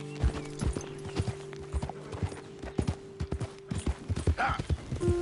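A horse's hooves clip-clop at a brisk rhythmic pace in the video game Red Dead Redemption 2, close and clear, with a steady tonal hum underneath.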